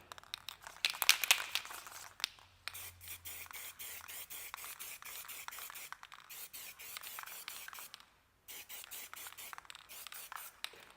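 A Duplicolor aerosol can of trim and bumper black paint is sprayed onto oxidized plastic trim in repeated hissing bursts with short gaps, faint and close.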